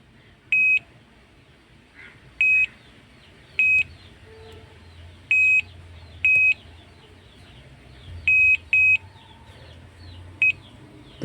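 Multimeter in buzzer mode beeps while its probes check a dead Poco C51 phone board. Short, sharp, identical beeps come at irregular intervals, some in quick pairs, over a low hum and faint room noise.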